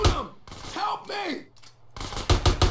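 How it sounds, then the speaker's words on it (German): Gunfire in GTA San Andreas during a final shootout, rapid bursts of shots at the end, following groans and cries. "Wir schießen ihm einfach auf den Kopf."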